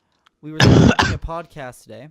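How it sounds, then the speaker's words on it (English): A single loud, rough cough bursts out in the middle of a casual podcast conversation, followed right away by ordinary speech from the same nearby speaker. "That was a cough."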